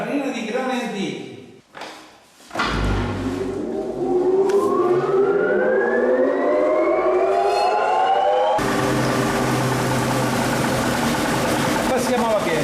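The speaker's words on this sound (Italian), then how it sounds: "Sì, accendiamo il mulino e faremo la farina di grani antichi." A stone flour mill powers up to grind ancient Sicilian wheat. A motor whine climbs steadily in pitch over several seconds, then settles into a loud, continuous mechanical hum.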